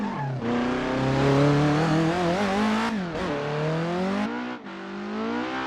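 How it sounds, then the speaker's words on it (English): A race car engine screams at high revs, pitch climbing and dropping through gear changes while tires squeal loudly the whole way. "Third gear, tires screaming on the back straight"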